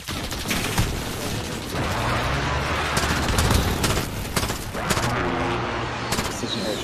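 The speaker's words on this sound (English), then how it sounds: "Friendly precision airstrike on the way." Gunfire and explosions from a precision airstrike in a multiplayer shooter video game: rapid bursts of shots and sharp cracks over a rumbling background, with some heavier booms.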